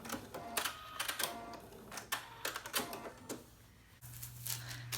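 Sewing machine running in short stitching bursts on fabric, with rapid close mechanical ticking that starts and stops several times, followed by a brief steady hum.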